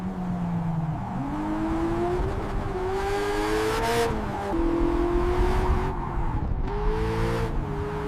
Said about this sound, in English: The exhaust unleashes the authentic voice of Lamborghini.